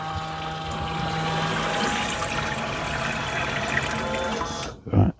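Water runs into the sink of a Renault Master campervan conversion. A small pump hums steadily under the continuous hiss of filling water, then stops, leaving a couple of soft knocks.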